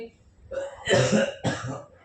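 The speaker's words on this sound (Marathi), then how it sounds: "सारखा खोकला चालूच आहे" Two harsh, throaty coughs, close by, the second following about half a second after the first, with a faint rumble before them.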